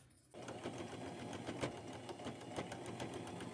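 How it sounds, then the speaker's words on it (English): A sewing machine runs a small zigzag stitch, sewing appliqué pieces onto an old skirt with purple thread. It starts after a brief quiet moment, then hums and chatters steadily and close-up for the rest, with faint regular pulses. "Now I'm going to sew these on with a small zigzag stitch, staying close to the edges"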